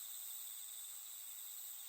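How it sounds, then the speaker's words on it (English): Steady night chorus of crickets and katydids, a continuous high buzzing trill with several sustained pitched bands, faint and unbroken, with no voices. "The night insects, the crickets and katydids that should have been singing all along returned"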